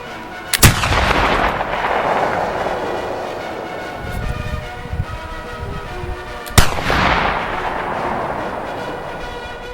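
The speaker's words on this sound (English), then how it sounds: "after a 3-round warm-up, shooting of the 10-round 200-yard group commenced." Two loud, sharp shots from an 1800 pattern Baker flintlock rifle fired at a 200-yard target outdoors, several seconds apart, each followed by a long rolling echo and decay.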